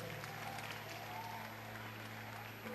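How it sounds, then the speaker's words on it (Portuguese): Church congregation applauding during an international missions congress service, steady dense clapping filling the room at moderate distance alongside a low constant hum. "tomem seu assento, aplaudindo a Jesus, porque Ele é bom,"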